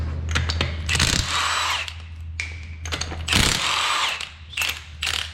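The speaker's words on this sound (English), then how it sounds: "our first step is obviously going to be to remove the wheels held on by 5 21mm lug nuts." A power tool removes the 21mm lug nuts from the wheel of a 2017 Mazda 3, heard as several close, loud bursts of whirring rattle with clanks of nuts and tools between them over a steady low hum.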